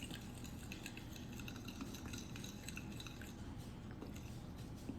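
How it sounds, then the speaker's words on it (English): Flour being mixed into pizza dough: soft, continuous squishing and scraping with faint clinks of a utensil against the bowl, quiet and steady throughout. "So I'm just gonna slowly mix in the flour."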